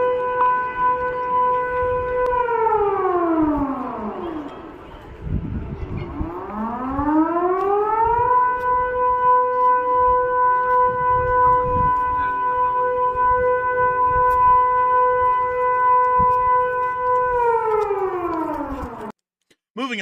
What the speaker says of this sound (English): They got that old school air raid siren.